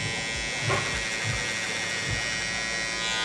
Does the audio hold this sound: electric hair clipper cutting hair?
yes